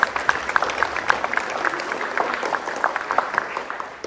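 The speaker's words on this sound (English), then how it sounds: "So let's give them a round of applause." A school-district audience gives a round of applause for its trustees, scattered sharp claps over a steady crowd patter for several seconds, fairly close and fading slightly.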